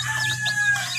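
Close mother hen vocalizations near her chicks, with a sustained tonal note and short clucky chirps over a steady low hum.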